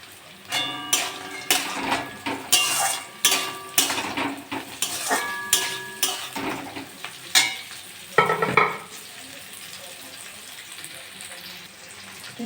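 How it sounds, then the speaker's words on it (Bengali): Cashews and raisins fry in a pan for fried rice, with a spoon repeatedly clanking and scraping against the metal in steady rhythmic stirs over a soft sizzle, then the stirring stops and only a quiet sizzle remains. "কাজু বাদাম আর কিশমিশ দিয়ে দেবো"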